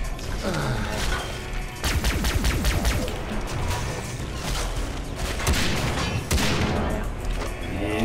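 Rapid bursts of gunfire and crashing impacts from the video game Far Cry 3 Blood Dragon, loud and dense, firing in clustered volleys over several seconds with mechanical clatter between shots.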